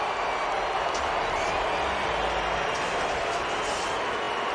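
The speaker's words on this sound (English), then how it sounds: "he leaves to a rousing round of applause, and he acknowledges the fans" Dense stadium crowd noise fills the ballpark as Dodgers fans applaud starting pitcher Walker Buehler leaving the mound against the Diamondbacks, a steady sustained roar of clapping and cheering throughout with no pauses.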